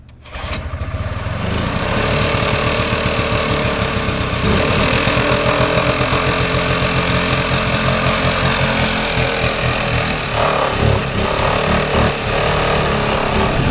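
A vintage Polaris Colt single-cylinder engine runs close by after a pull start on full choke, a loud, steady, rapid chugging putter that holds throughout with slight unevenness near the end.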